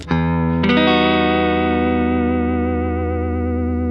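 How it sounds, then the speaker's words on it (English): A sustained, heavily effected guitar chord, the James Bond chord, rings out after a quick strum, its pitch wobbling in a slow, warped tailspin vibrato that gives it a cartoonish, seasick wobble. "Next thing is the tailspin vibrato. Yeah, I love that, like cartoon sort of sound."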